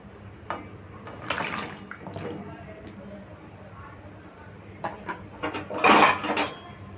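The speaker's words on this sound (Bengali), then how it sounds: "এবার আমি আমগুলো ঢেলে দিচ্ছি।" Raw mango pieces clatter and splash into hot water in a wok, with scattered clinks of utensils on metal and a burst of splashing near the end, while someone talks throughout.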